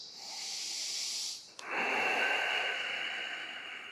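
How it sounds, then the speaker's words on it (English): Deep, steady breaths during a middle splits stretch: a long airy inhale, a brief pause, then a long hissing exhale close to the listener, with no talking. "Deep breaths."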